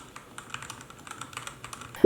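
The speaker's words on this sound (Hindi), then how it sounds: "क्लिकी स्विचेस में हाफ की प्रेस करने में ऐसे टिक टिक की साउंड आती है" Clicky Outemu mechanical keyboard switches are pressed one after another, producing a steady series of sharp, close ticking clicks, with a louder thump at the very end.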